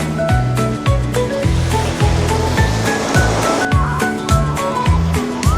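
Waves breaking on a sandy beach at Los Cristianos, Tenerife, a loud continuous surf wash with repeated rolling crashes close by and no speech.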